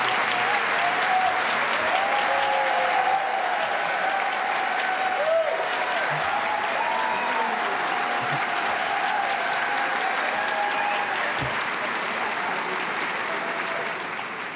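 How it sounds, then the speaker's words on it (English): A large audience applauds steadily at an evening event with Nancy Pelosi at the Cap Times Idea Fest, a dense wash of clapping that holds for the full stretch with faint voices and a few cheers beneath. "Could we give another round of applause to Paul Fanland"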